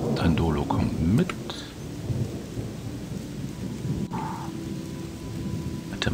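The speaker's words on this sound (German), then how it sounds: "Vor allem, wo es jetzt so regnet." Steady rain with rumbling thunder from the video game Odyssee, a continuous loud downpour with low rolling rumbles and a few brief tonal game sounds, and faint voices in the mix.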